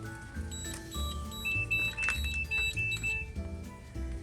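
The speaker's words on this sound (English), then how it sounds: "Dumb thing setting off alarm." An electronic alarm beeps faintly in steady high tones while a charcoal smoker is being loaded with large beef ribs, set against low background noise.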